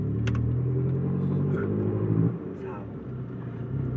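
A car rushes past close by, its engine rumble loud and building before dropping away sharply midway as it goes by, while people talk excitedly over it.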